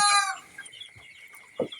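Chickens cluck nearby, a short burst at the start followed by a single cluck near the end, with quiet between.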